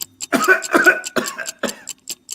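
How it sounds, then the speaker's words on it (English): Several quick, harsh coughs in a burst, close and fairly loud, with no talking. "Cough."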